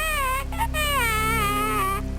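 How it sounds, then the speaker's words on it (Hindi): An eerie, wavering wail like a child crying strangely, a drawn-out sobbing tone over a steady background hum, used as a horror story sound effect. "लेकिन तभी दूर से किसी बच्चे की अजीब तरीके से रोने की आवाज आती है।"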